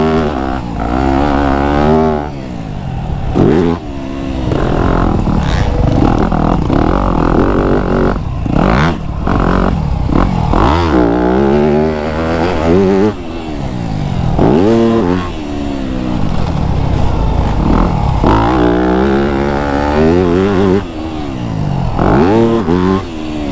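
A 2025 Yamaha YZ250F dirt bike roars around a hidden sand track in the woods, its engine revving hard and falling off again and again through shifts and jumps, loud and close to the rider throughout.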